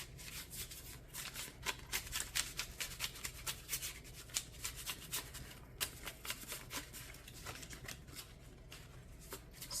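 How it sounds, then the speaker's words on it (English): Oracle card deck being shuffled up close, a steady run of crisp riffling and flicking card snaps over about ten seconds, with no voices. "So let's do a little shuffling."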